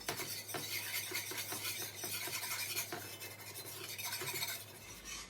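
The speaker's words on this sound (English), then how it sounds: "And then we're just gonna stir this in." A spoon scrapes and swirls steadily through flour being worked into hot grease for a gravy roux, a soft, continuous rasping stir at low volume.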